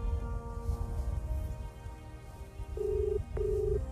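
An unanswered phone call gives a repeating ringback tone heard through a phone, two short electronic ring bursts near the end over a low background hum.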